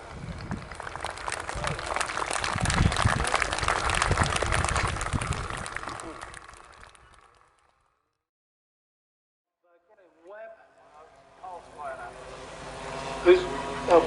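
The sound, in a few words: audience applause at a model air show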